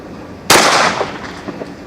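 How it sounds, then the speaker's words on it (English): A SIG P320 X Carry Legion pistol fires one sharp, loud shot at a shooting range, and the report echoes and fades over about a second. "Let's pop a few rounds."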